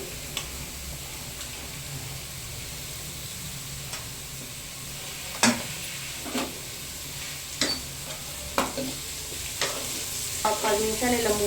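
Bitter gourd pieces frying in a pan, a steady soft sizzle with occasional sharper ticks and clinks of stirring, close by and without talk.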